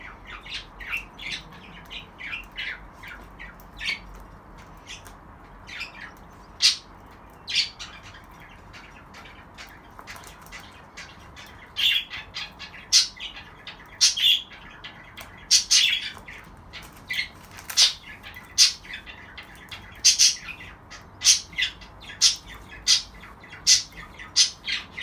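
A pet budgie squawks and chirps repeatedly in sharp, bright bursts that grow busier and louder over time, close to the microphone, with no talking.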